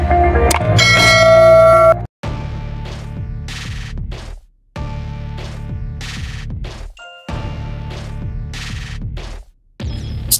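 A bright notification bell ding rings out repeatedly, clear metallic chimes with ringing tails cut by short silences, loud and isolated with no talking.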